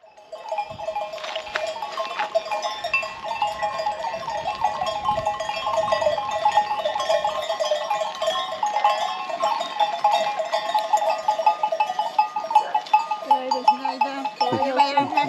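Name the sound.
flock of sheep being driven past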